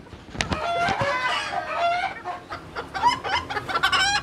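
English Game chickens at a fancy hen farm cluck and call continuously, with several birds overlapping in a busy, fairly close chorus of short clucks and squawks.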